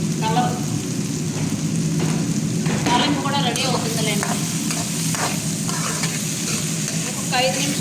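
Tempering spices with turmeric sizzle loudly in a hot pan while being stirred, a continuous crackling fry with scraping stir strokes, close and steady throughout.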